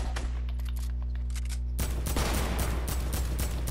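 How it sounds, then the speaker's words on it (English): A sniper rifle shot in the video game Fortnite: a sudden loud, broadband crack hits partway through and rolls into sustained noisy gunfire, with no talk heard. "That sounded like a sniper."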